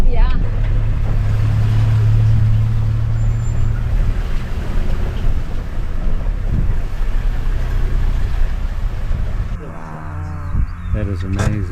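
A safari vehicle races fast across the Tanzanian bush toward a termite mound, its engine rumble and wind buffeting loud and continuous, with people talking over the noise before it eases off near the end.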